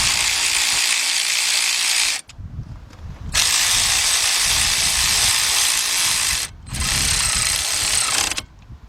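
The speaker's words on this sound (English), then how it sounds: "Now let's go ahead and get our Slick Rick ratchet." A ratchet tightening brake caliper bolts on a 1994 Chevy C2500 pickup with a 6.5 diesel, loud continuous whirring runs broken by two short pauses.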